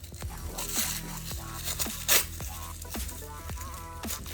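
Plastic packaging is peeled and torn away from the hand of a realistic reborn-style baby doll, with a series of short crinkling rips and rustles up close, irregular and fairly quiet.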